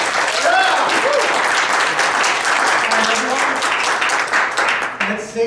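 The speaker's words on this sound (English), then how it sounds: "Save our applause to Dan." Debate audience applause: a dense, sustained round of clapping fills the hall and tapers off near the end, with some voices mixed in underneath.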